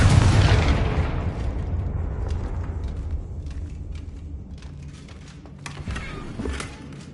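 The Confringo explosive spell bursts in Hogwarts Legacy with a loud boom at the start, its rumble trailing off into smaller pops and impacts.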